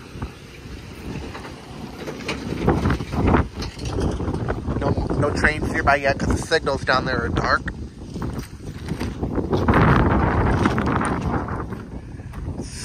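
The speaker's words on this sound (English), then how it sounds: "Super windy." Strong gusting wind buffets the microphone in heavy rumbling bursts, while someone talks over it outdoors at a railroad crossing on Bottom Road, Columbia, Illinois, the day after a storm.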